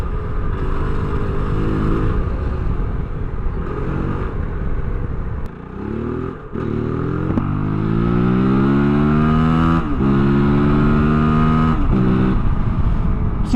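Loud and close, a Kove 450 Rally street-legal adventure motorcycle revs hard on sand, its single-cylinder 450 engine climbing repeatedly through rising pitch sweeps, dipping briefly, then winding up again.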